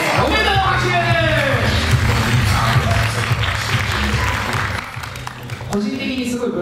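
Applause from the crowd at a 2018 dance contest awards ceremony, honouring a winner, a sustained mass of clapping with an announcer speaking over it and a brief dip near the end.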